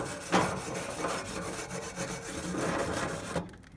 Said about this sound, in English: I got a little ashes on my cooking surface. Rub that stuff off.